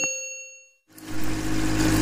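A subscribe notification bell rings out as a bright ding with a long ringing tail, then fades to silence before a low engine-like hum comes in.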